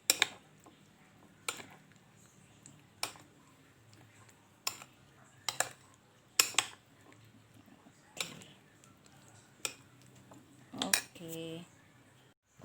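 A utensil scrapes and clinks against a bowl while fried pineapple batter is mixed, sharp taps and knocks at irregular intervals over a quiet background, a faint voice briefly audible near the end.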